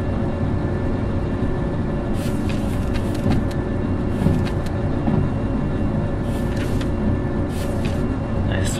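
A locomotive in the Derail Valley train simulator game pulls away after its brake is released, giving a steady, loud mechanical rumble with faint intermittent clicks and squeaks throughout.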